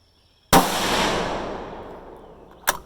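A single sharp, loud rifle shot from a Ruger 6.5 Grendel cracks close by and rolls into a long fading echo, followed about two seconds later by a brief second bang.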